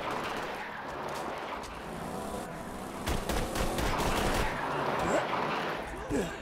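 Gunfire in Borderlands 2 at a remote bandit camp, bursts of shots rolling over a steady game background with a sharper cluster of louder blasts midway, close and fairly loud, no talking over it.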